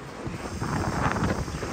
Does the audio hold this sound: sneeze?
no